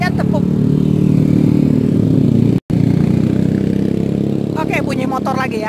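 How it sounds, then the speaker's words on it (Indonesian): Motorcycle engine drones steadily nearby for several seconds, a mid-pitched idling rumble, with a voice talking over it near the end. "bunyi motor lagi ya"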